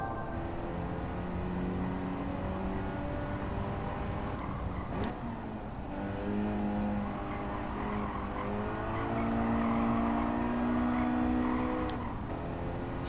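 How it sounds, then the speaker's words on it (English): Racing game car from Gran Turismo on standard road tires, engine droning steadily with shifting pitch as it drifts through corners of a track during a time trial, continuous and fairly loud throughout. "I love how the car with these ordinary tires just has some drift to it."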